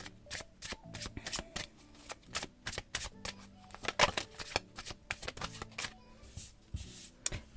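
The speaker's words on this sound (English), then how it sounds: "I'll throw some cards and see what comes out" Tarot cards being shuffled for a random reading, a rapid run of crisp riffling and slapping card sounds, close and fairly quiet, continuing steadily with no talking.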